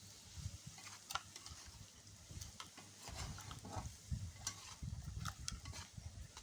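Taro stolons (lotis) being stir-fried in a pan, with a low, steady sizzle under repeated scraping and stirring strokes, fairly quiet and close, with no talking.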